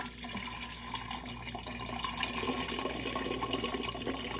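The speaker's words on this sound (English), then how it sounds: "I'm going to pour it through a sieve because I've got that loose nettle in it" Kombucha with loose nettle poured through a sieve into a jar, a steady close liquid trickle and splash running throughout without speech.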